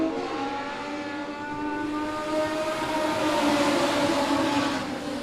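A field of race cars takes the green flag at Monett Motor Speedway, engines building together into a loud rising roar that grows over a few seconds with no talk.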